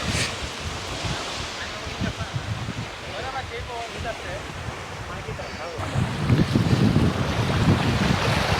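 Waves wash in on Gokarna beach in India under gusty wind buffeting the microphone, a broad rushing roar that swells louder in the final few seconds.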